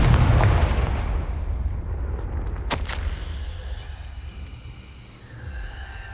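Confringo blasting spell exploding in Hogwarts Legacy, a deep booming blast with a rumbling low-end tail and a sharp crack midway, loud and close, fading into a low ambient drone with no talk.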